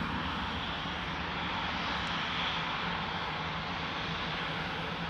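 A Cathay Pacific Airbus A350-1000 at Amsterdam Schiphol airport, its jet engines running with a loud, continuous broadband roar that holds steady throughout.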